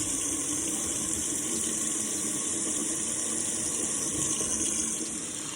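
Cold water pours steadily from a sink faucet into a garbage disposal drain, a continuous hissing splash at even volume throughout with no voices.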